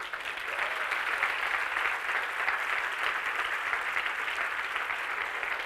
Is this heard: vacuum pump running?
no